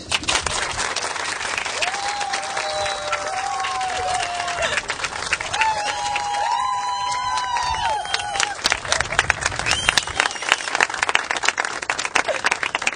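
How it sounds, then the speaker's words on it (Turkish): Wedding guests at a civil marriage ceremony give the couple enthusiastic applause, continuous clapping with some cheering mixed in and a faint melodic tone weaving through. "Ve çiftimiz için sevgili konuklardan lütfen çok coşkulu bir alkış."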